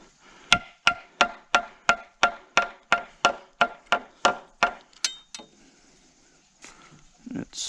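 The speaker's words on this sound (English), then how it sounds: "I'll hit this back of my hammer a little bit." Hammer taps on a wooden wall plate while a rough-cut wall is laid out: about fourteen sharp, evenly spaced knocks, close and loud, then a pause and a few faint handling sounds.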